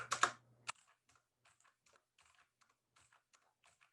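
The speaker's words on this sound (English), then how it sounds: "I'm just gonna mash my keyboard now." Computer keyboard keys are mashed in a quick, loud burst of clustered clacks, then a sparse run of faint, irregular single key taps follows, close up with no talk.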